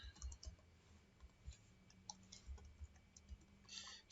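Faint, sparse clicks of keys being typed on a computer keyboard, a handful of light taps spaced irregularly over near-silence.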